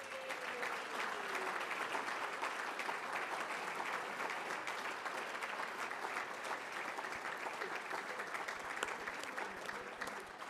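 Sustained audience applause fills a hall at a bowling Hall of Fame induction ceremony, steady and dense throughout with no talk over it.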